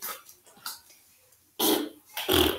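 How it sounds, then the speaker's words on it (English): Slime squished by hand makes wet, fart-like squelches, two loud bursts near the end after quieter squishing, close by. "like that type of noise, but that's like this slime"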